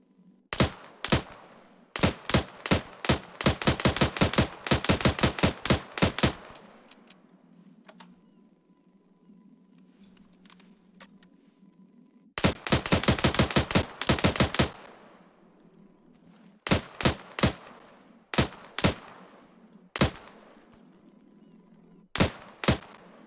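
A semi-automatic 7.62mm rifle with a 20-round magazine fires in Arma 3, modded British Army weapon: loud, sharp shots in quick bursts of several rounds, then sparser single and paired shots separated by short pauses.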